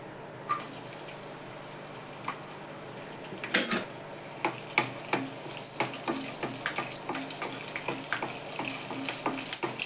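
Five or six garlic cloves sizzle in hot oil for a puffed-rice chivda. A continuous frying hiss is punctuated by frequent sharp metallic clinks and scrapes of a utensil against the pan, growing busier toward the end.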